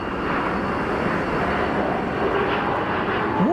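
Airbus A220 airliner on a go-around at Geneva Airport, a loud continuous roar of jet engines filling the air with broadband rushing noise and a rising whine near the end, no talking.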